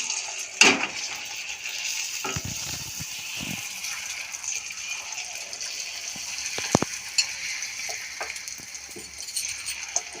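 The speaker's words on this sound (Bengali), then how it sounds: "নিলাম নিয়ে আর এই তেলে ছেড়ে দিলাম রুটিটা নিয়ে তেলেতে দিলাম" Puri (fuchka) dough frying in hot oil gives a steady, moderate sizzle, with a few sharp clicks and scrapes as the pieces are turned.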